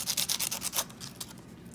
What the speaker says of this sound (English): make sure you have yourself some sandpaper, because you want to sand this part down.